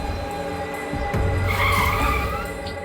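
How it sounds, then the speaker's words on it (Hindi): A car brakes hard and skids to a stop during a CID crime drama scene, a loud, close tire squeal that swells and then settles. "ए, गाड़ी रोक।"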